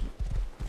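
A few quick horse hoof clops in a short burst, fairly close and clear, with no talking over them, from the video game Rust.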